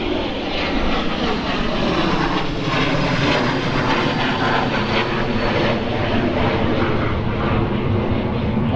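An aircraft takes off at Stansted Airport, its engines a loud, steady roar that fills the whole stretch without a break, heard alone with no voices.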